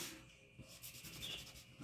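Hand sanding of an old wooden sign during a repurposing craft makeover, a close, soft rubbing scrape repeated in short strokes at low level, with no talk.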